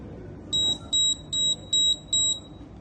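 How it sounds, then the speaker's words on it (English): The buzzer of a gas detection circuit beeps five times in quick, even pulses over a steady low background rumble. The beeps are moderately loud and sharp. "The buzzer will sound 5 times as it just did"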